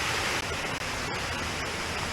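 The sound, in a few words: waterfall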